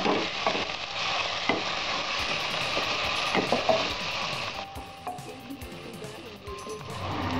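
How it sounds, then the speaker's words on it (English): Ginger and garlic paste sauté in a pan for pav bhaji, a loud continuous sizzle with scattered clicks of a spoon, easing off partway through. "And 1/2 teaspoon of garlic paste. Saute this again"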